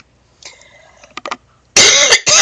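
A short burst of harsh coughing, loud and close, two forceful coughs after a brief quieter throat sound.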